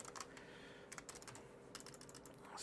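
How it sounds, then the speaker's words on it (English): Quiet typing on a computer keyboard, with irregular clusters of light key clicks coming in bursts over a low steady background hum. "sorry if you can hear the typing"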